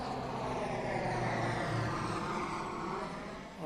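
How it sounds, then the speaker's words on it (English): An airplane flies overhead with a broad, faint engine roar that holds fairly even and then eases slightly as it passes. "Or you might like the sound of a plane."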